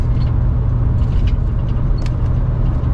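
A Hemi-engined vehicle cruising steadily at about 55 mph produces a loud, constant low road and engine drone heard from inside the cabin, with no talking.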